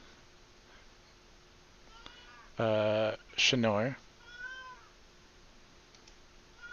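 A pet cat meows twice in quick succession at close range, each call loud and drawn out, while someone talks quietly over a low background hum.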